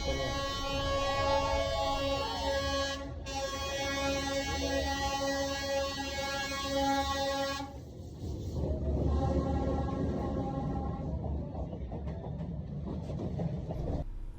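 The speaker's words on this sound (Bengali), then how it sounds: "আমি আসলাম আর ট্রেনটা আসছে।" A train arriving along Hanoi's narrow train street in Vietnam, with a loud sustained horn and rumbling wheels close by, the horn cutting off midway as rolling noise continues.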